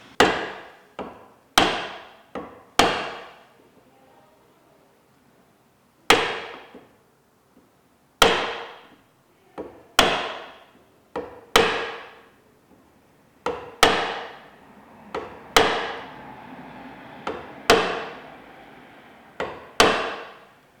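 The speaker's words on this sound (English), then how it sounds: "with a series of cuts, which you'll see me demonstrate, roughly at about an angle of 50 degrees, I'm going to feather the cuts on that hinge." Chisel struck by a mallet, cutting into wood to feather a window hinge recess in carpentry joinery: about fifteen sharp, near knocks arriving singly and in quick pairs, with brief pauses between.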